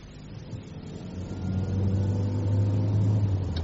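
A new car heard from inside as it drives, a steady mid-pitched engine drone and road rumble that builds as it accelerates, continuous and moderately loud with no voices.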